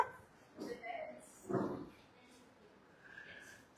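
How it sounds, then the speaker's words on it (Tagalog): Pet dogs in a home make short yips and whimpers in a few brief bursts, close by and fairly quiet, with a soft voice in the background. "So, ayan, ang daming aso namin dito."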